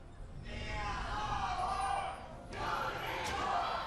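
An esports arena crowd at a League of Legends EU LCS match between H2K and Unicorns of Love roars and chants in a dense, sustained wash of voices that dips briefly before swelling again.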